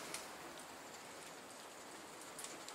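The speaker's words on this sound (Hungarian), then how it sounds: "ránk jött az eső" Rain falling outdoors on dry ground and plants, a steady soft patter of drops, even and fairly faint, with no talk.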